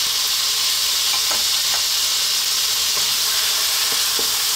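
Tomatoes hit a hot pan for a Filipino sardine tomato sauce, giving a steady close sizzle with a few soft stirring scrapes and taps scattered through it.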